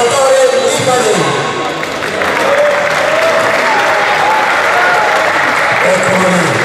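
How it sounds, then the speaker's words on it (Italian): Audience at a slalom racing awards ceremony in Altomonte, Italy, applauding loudly and continuously, with a dense close clapping crowd throughout. "Io vorrei con un solo applauso, doppio, triplo, quadruplo applauso per Salvatore Lipani"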